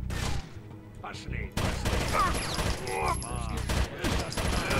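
Gunfire in the video game Rainbow Six: Vegas, with several sharp bursts of shots in quick succession mixed among game sounds and a voice talking over the action.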